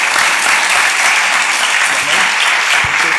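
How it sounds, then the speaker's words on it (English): Audience at a youth mindfulness event applauding for a guest invited up to speak, a dense, loud and steady clapping that fills the whole stretch. "Can we give a round of applause to Daniel?"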